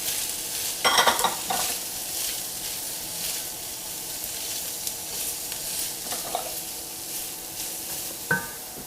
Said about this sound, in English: In goes the onion and the celery.